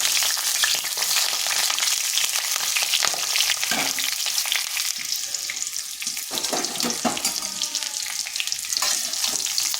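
Cauliflower florets frying lightly in hot oil, a steady dense sizzle with scattered crackles and spatters, close and fairly loud, with no voices.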